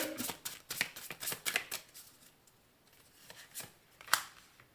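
Oracle cards are shuffled for a tarot-style reading: quick, close papery riffles and flicks in a busy burst over the first couple of seconds, then a few softer isolated flicks in a quiet room.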